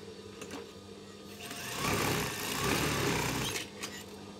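A sewing machine stitches the right-hand side of a curtain, its motor running steadily close by with a louder burst in the middle of the run and no talking over it.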